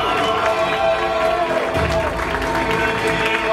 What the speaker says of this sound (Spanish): Fuerte el aplauso para el padrino